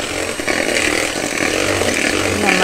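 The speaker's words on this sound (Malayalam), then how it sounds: "1 teaspoon വാനില എസെൻസ് ഒഴിച്ചു നന്നായിട്ട് സോഫ്റ്റായിട്ട് അടിക്കും" An electric hand mixer beats egg with vanilla essence for homemade chocolate chip cookie dough, a steady loud whirring buzz with no pauses.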